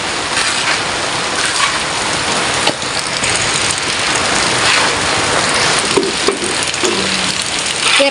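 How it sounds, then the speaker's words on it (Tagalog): Steady, heavy rain pours down over a low engine idling nearby, a constant dense hiss with occasional louder drops. "Ulan din."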